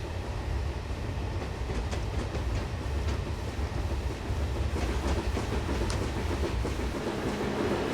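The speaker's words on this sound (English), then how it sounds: "Train Simulator, why are you so noisy?" Train running in the Train Simulator video game: a steady low rumble of rolling stock with faint rhythmic wheel clicks throughout, loud and continuous with no talking.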